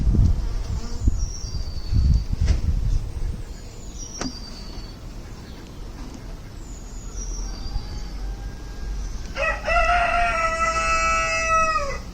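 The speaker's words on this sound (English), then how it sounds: "And yes, more bees." A low, constant buzz of bees at a farm hive hums close by throughout, while a rooster crows clearly in the background near the end.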